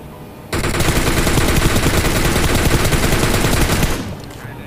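Rapid automatic gunfire from PUBG Mobile, loud and sustained, a dense burst of shots running for several seconds before cutting off, with no talk over it.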